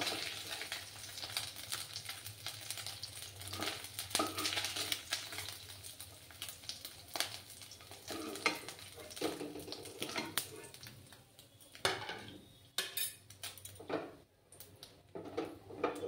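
Fried mourala fish being lifted out of hot oil in a kadai in a home kitchen, a soft continuous sizzle with light clinks and scraping of a utensil, close and moderately quiet.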